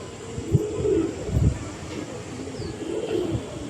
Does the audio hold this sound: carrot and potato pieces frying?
no